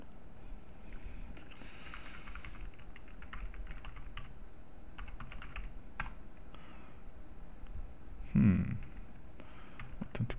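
Fingers tap on a computer keyboard during sign-in on an Ubuntu machine: faint, quick, irregular keystrokes close to the microphone over low room noise, with one brief louder bump near the end.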